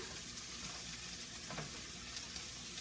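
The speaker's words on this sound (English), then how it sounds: "So now I'm going to add my meat. There we go. I'm just going to stir those around." Meat goes into sautéing onions and vegetables in a pan for jambalaya, hissing in a dense, steady sizzle with soft stirring scrapes underneath, close and even throughout, no speech.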